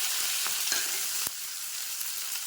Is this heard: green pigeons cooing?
no